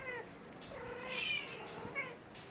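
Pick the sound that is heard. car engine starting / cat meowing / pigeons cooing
cat meowing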